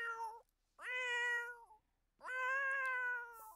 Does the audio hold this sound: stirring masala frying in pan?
no